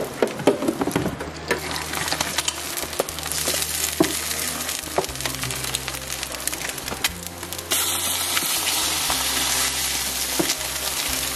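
Eggs frying in butter in a pan give a steady, close sizzle and crackle with occasional small pops, continuing throughout at a moderate level with no talking.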